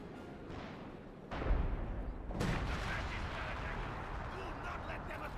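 Artillery barrage in the strategy game Company of Heroes 2: a heavy, sustained roar of explosions and gunfire with sharp booming onsets, close and loud throughout.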